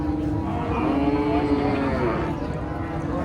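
A Friesian cow at a crowded cattle market gives one long, drawn-out moo lasting about two seconds, close and fairly loud, while people talk nearby.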